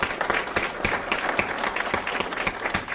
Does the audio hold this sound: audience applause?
yes